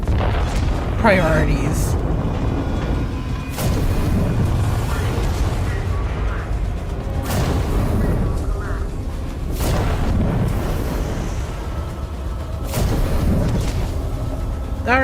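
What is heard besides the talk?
ship exploding in a video game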